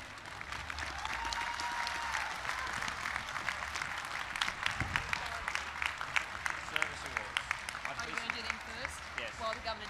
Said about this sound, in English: We'll give you a clap to go the same way you came in.